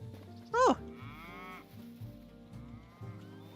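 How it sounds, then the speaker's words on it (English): Cows in the video game Hytale give a single short, loud moo near the start, with quieter game ambience and soft background music around it. "Hello, cows."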